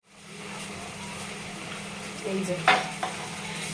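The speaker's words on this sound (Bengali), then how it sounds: "আমি এখন ভেজে নিচ্ছি অল্প নুন হলুদ গুঁড়ো লঙ্কা গুঁড়ো দিয়ে চিনি দিয়ে" Jackfruit seeds frying in a pan with salt, turmeric, chili powder and sugar, a quiet, even sizzle, with a few clinking stirring sounds toward the end.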